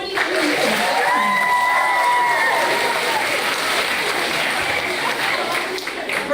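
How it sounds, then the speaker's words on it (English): Audience at a school ceremony applauding, a dense burst of clapping and some cheering that starts strong and slowly fades, with voices mixed in. "Yeah, round of applause."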